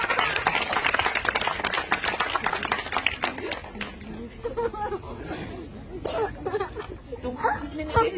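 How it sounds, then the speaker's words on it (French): An outdoor crowd applauds the children at a municipal playground inauguration, a dense patter of many hands clapping for several seconds, fading as a voice talks over it. "je tiens à ce qu'on les applaudisse"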